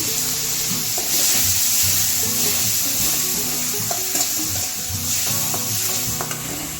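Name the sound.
tomatoes sautéing with onions in a pan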